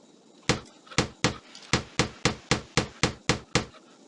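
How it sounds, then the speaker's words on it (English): A hammer nails wagon pieces together in the 1998 PC game Tonka Workshop: ten sharp, evenly spaced knocks ring out close and loud in a steady rhythm, with no talk. "Now use the hammer to nail the pieces together."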